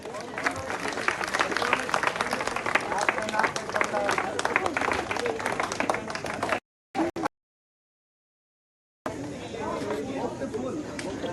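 Audience applauding at an official event on the Ridge in Shimla where a painting is presented to the Chief Minister, with dense sustained clapping and crowd chatter for several seconds before breaking off into silence and then resuming.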